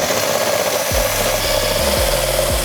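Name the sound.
power drill drilling ice cube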